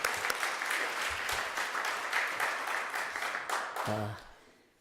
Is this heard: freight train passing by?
no